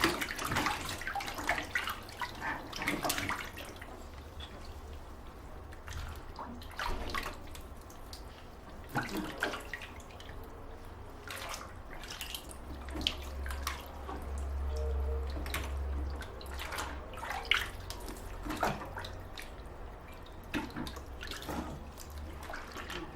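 A baby splashes and paddles in bathwater in a tub, with scattered splashes, drips and sloshing close by throughout, no talking.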